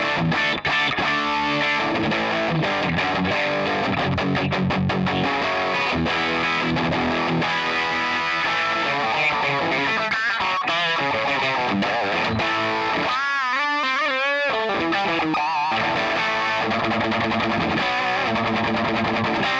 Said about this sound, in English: Next preset is called Plexi and is based upon a Marshall JMP simulation cranked all the way up with its matching vintage 4x12 cabinet